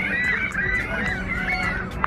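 Birds beside the St. Lawrence River give a series of honking, goose-like calls over a noisy outdoor background, moderately close and repeated at an uneven pace, with a sharper call near the end.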